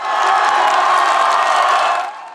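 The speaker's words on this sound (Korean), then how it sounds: "환호성이 터져나옵니다." Baseball fans of NC Dinos erupt in loud, dense cheering and whooping after a home run by Park Seong-min. The roar is sustained, then drops off sharply at the end.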